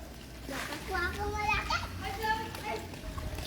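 Children play excitedly with small fish caught in typhoon floodwater in front of a house, their chatter and squeals continuous and fairly close, with an adult talking among them and faint splashing beneath.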